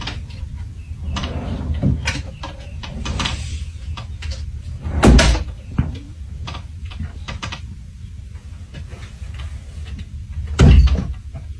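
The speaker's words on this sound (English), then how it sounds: "From its cozy hiding spot, the cat had been pushing the drawers open and closed." Wooden drawers are pushed open and shut by a cat, giving repeated close sliding scrapes and sharp knocks, with two heavier thumps standing out among the irregular clatter; no voices.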